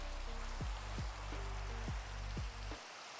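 Rain pours in a Minecraft world as a dense, steady hiss of drops, accompanied by a few low rhythmic thumps that repeat roughly every half second, with no voices.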